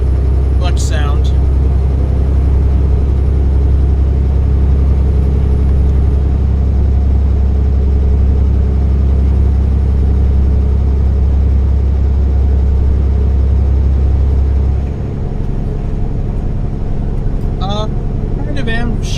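A Scania truck engine in Euro Truck Simulator 2 drones steadily as a loud low rumble throughout, with a brief shift near the end and someone talking over it.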